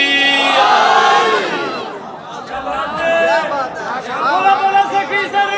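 Religious gathering crowd shouting a slogan in unison in reply to a cleric's chant of Haideri and Ya Ali, loud massed voices swelling then breaking into scattered shouts.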